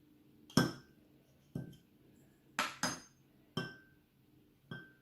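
Drinking glasses clink as an egg is moved from one glass to another: about six sharp, close glassy knocks at irregular intervals, each ringing briefly before fading into quiet.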